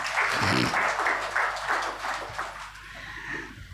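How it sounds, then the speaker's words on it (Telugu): A church congregation at an anniversary festival service claps hands in praise of the Lord, a steady rhythmic patter of many hands that is loudest at first and gradually thins and softens toward the end. "చప్పట్లు జరిచి ప్రభుని కనపరచుదాం."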